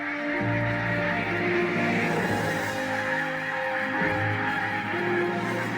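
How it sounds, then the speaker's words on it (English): Migrating geese honk over a wetland in Matsalu National Park, Estonia, in November, a flock calling repeatedly in overlapping nasal honks at moderate distance above a soft background hum. "All migrating birds that don't overwinter in Estonia now make their way south."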